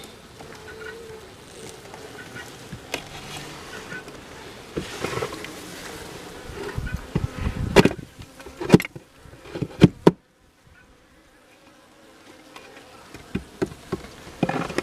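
Steady buzzing from many honeybees at a hive in November, close and continuous, with a few sharp knocks and clicks before it briefly falls quiet.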